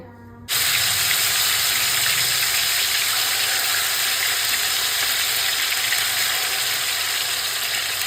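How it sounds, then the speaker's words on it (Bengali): Chicken pieces dropped into hot ghee and oil set off a loud, steady frying sizzle that starts abruptly and holds without a break, with no talk over it. "তেলটা গরম হয়ে গেলে এবার দিয়ে দেবো চিকেনগুলো ভাজতে"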